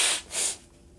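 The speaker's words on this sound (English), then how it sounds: "Over here blowing my nose." A person blowing their nose, two short breathy bursts in quick succession, close to the microphone, with a quiet hiss trailing off afterward and no talking.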